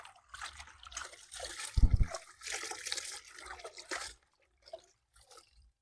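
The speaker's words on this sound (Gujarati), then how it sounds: "ચોખ્ખા પાણી મસ્ત ધોઈ નાખશું." Cut potatoes and onions being washed in clean water in a bucket in a village kitchen, with steady sloshing and trickling and a brief heavier splash midway before the water goes quiet.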